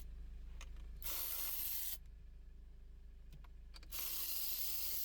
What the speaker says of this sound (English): This is a 13mm bolt, and we are using a 13mm socket to remove it.